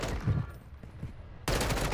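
Gunshots in the Warzone video game: a loud burst of gunfire near the start, quieter scattered shots through the middle, then a sudden loud surge of firing at the end, with no talk.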